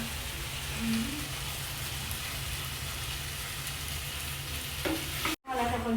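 Zucchini and egg stir-fry in a pan with a constant, dense sizzle and scraping stir strokes, close and loud, ending with a short break and a few spatula clinks.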